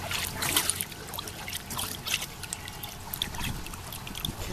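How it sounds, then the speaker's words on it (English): Water trickles and splashes steadily through an aquaponics swirl filter at a high school setup, a continuous close, bright dribbling wash with no voices. "So this is the swirl filter, and you can see it working away there"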